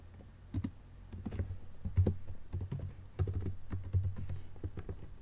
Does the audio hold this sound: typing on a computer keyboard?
yes